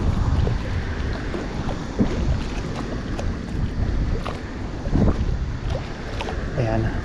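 Strong headwind buffets a small fishing boat at sea, a steady rushing roar of wind noise on the microphone with splashing water and engine rumble, and faint voices beneath.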